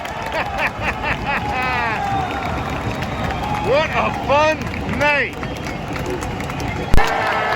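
A stadium crowd roars and cheers after an Inter Miami soccer win, with a steady wash of noise, bursts of whistles and shouts, and wind buffeting the microphone, while someone nearby speaks briefly.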